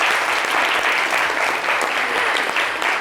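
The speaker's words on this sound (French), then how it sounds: "J'aimerais qu'on applaudisse bien fort" A television studio audience claps loudly and steadily for a few seconds, a thick continuous patter close by with no speech over it.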